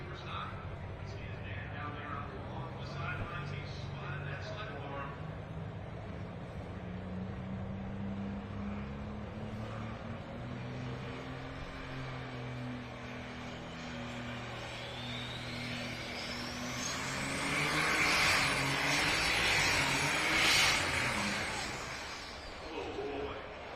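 A light super stock pulling tractor's engine drones steadily at a national pulling championship, then swells into a louder, higher roar as it presses down the track, heard from a distance under an announcer's commentary.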